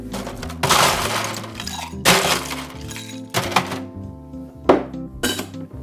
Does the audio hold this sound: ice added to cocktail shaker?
yes